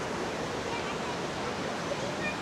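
Small waterfall fed by a rainforest stream in the Daintree, a steady broadband rush of falling water heard up close, continuous and fairly loud throughout with no other sounds standing out.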